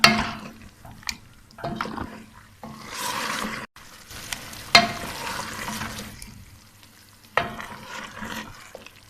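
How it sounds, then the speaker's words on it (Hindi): Mutton frying in a pan with ginger-garlic paste while being stirred, with scraping and clanking spoon hits over a sizzling hiss, close up and uneven in loudness. "अब हम इसमें डाल देते हैं अदरक लहसुन का पेस्ट। इसको अच्छी तरह मिक्स कर देते हैं।"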